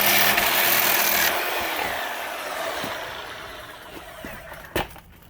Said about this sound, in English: Got my Sawzall, and now I've gone ahead and put in a rather monstrous metal blade here. Just gonna run this through.